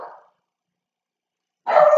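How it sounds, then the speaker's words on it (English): Pug dachshund mix dogs barking, a short bark at the start then a louder burst of barks after a pause of silence, close and loud with no talk. "Oh my gosh, my dogs are barking."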